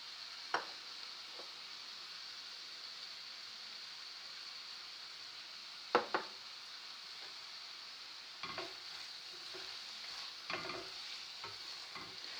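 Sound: mushrooms frying and being stirred in a pan

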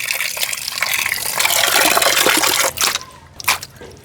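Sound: washing beef meat with water

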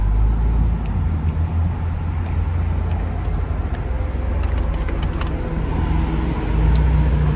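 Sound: 2021 Ford Bronco Wildtrak driving

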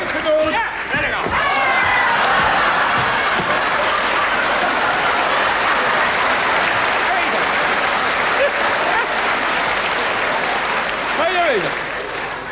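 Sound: audience applause

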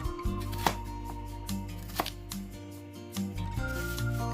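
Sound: chopping small onions into small pieces

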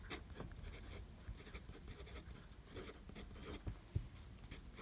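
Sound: Twsbi Go fountain pen with fine nib writing on paper

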